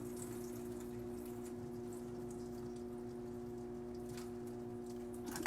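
Tap water runs steadily over rice being rinsed for starch, a continuous close wash of water with a low mechanical hum beneath and occasional faint splashes, no voices.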